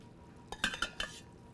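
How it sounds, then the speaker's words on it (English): Sugar and butter being stirred in a pan for cracker candy, giving three or four quick utensil scrapes and clinks against the pan over a quiet background. "Kind of have to stir that."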